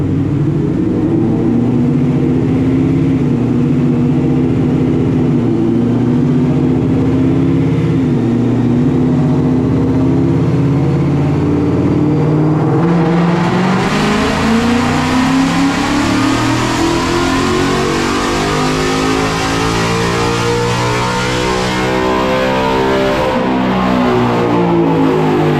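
A 2018–2023 Ford Mustang GT with a swapped intake and dual throttle bodies revs hard on a dyno, a loud sustained engine roar climbing steadily in pitch, then surging higher and harsher through a full-throttle pull with no talking.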